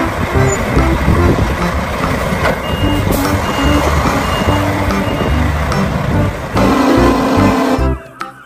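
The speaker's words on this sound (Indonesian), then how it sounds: "Yang ini ada mobil truk molen." A cement mixer truck rumbles steadily while its reversing alarm beeps repeatedly and loudly, until the sound cuts off abruptly at the end.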